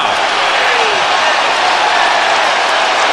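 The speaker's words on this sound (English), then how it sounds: "they're cheering for you now" Crowd cheering in a basketball arena at an NBA game between the Minnesota Timberwolves and Philadelphia Sixers: a steady, loud, dense roar with applause that holds unbroken throughout.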